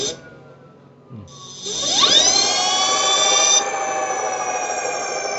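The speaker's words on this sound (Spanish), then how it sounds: "Vamos a ver que el motor pues va a acelerar más." An electric motor whines up from a low speed, its pitch sweeping sharply upward to a louder, higher steady whine with bright harmonic overtones, then settling slightly quieter while holding speed.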